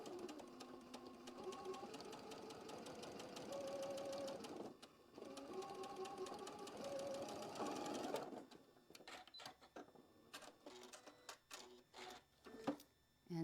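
A sewing machine stitches a quilt block in two steady, quiet runs of rapid mechanical whirring, then gives way to scattered clicks and light handling sounds.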